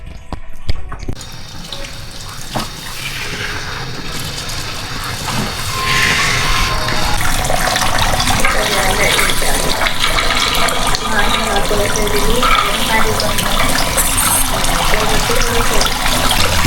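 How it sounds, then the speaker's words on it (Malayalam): Water runs steadily over a person's head during a spa hair wash at a Bangkok massage parlour, a continuous close splashing rush that grows fuller after a few seconds, with faint voices underneath. "മണിക്കൂർ 1-2 തന്നെ വെള്ളം ഇങ്ങനെ തലയിൽ കൂടെ ഇങ്ങനെ വീണുകൊണ്ടിരിക്കുകയാണ്"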